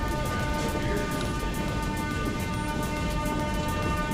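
A continuous loud rumble and screech of a Kyiv Metro train running on rails, with steady tonal whine and rattling, close by.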